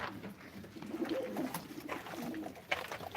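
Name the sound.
pigeon cooing, red-eyed pigeon at a pigeon auction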